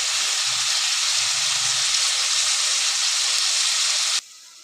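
Onions frying in hot oil in a pan over a high flame, a loud, steady sizzle and hiss that runs unbroken and then cuts off abruptly near the end.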